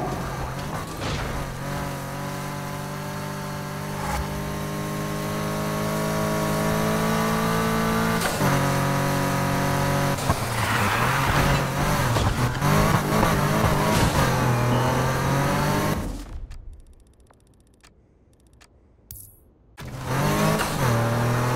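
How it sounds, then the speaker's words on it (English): A BMW M3 engine in the racing game NFS Heat roars steadily with rising and falling revs and occasional tire squeal, loud and close, cutting to near silence briefly before surging back. "Got a hotshot rolling around in a BMW M3."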